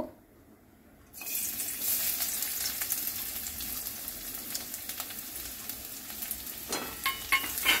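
Chopped garlic hits oil already used for frying chicken, starting a loud, steady sizzle after a brief quiet second, with a few stirring clatters and scrapes near the end.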